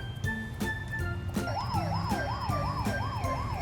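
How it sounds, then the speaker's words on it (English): A toy police car plays a warbling electronic siren, loud and close, repeating in steady rising-and-falling cycles after a few short beeps. "If you hear a police car honk and flash its sirens,"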